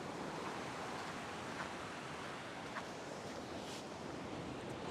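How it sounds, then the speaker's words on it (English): Ocean waves wash over a small, sheltered beach in a steady broad roar of surf and white water, with a few brief louder crests, no voices. "Every now and then a bigger wave comes in and breaks there and you've got white water through there"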